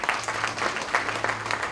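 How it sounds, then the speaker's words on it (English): An audience at a public campaign event in Uganda applauds, steady dense clapping from a crowd that continues throughout at moderate loudness. "We have to give him another round of applause."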